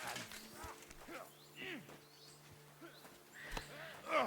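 Horse hooves clip-clopping in the medieval video game Kingdom Come: Deliverance II, a steady walking rhythm of soft, near thuds over faint game ambience, with several brief louder bumps along the way.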